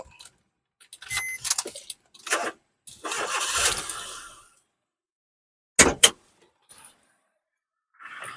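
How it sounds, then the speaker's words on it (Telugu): Keys jingle a few times, then the engine of a 2018 Maruti Alto K10 car cranks and catches with a brief roar before falling quiet; a couple of sharp clicks follow. "మీకు ఇంజిన్ కూడా స్టార్ట్ చేపించి"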